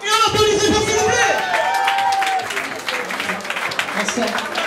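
An audience at a UN gala applauds in a loud burst of clapping that fades over a few seconds, with some crowd murmur mixed in.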